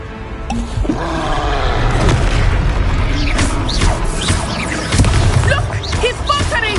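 The Expelliarmus spell strikes in the video game Hogwarts Legacy with a loud, booming impact that rumbles on under whooshing magical effects and swirling, sparkling tones for several seconds.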